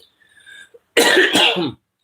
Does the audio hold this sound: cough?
yes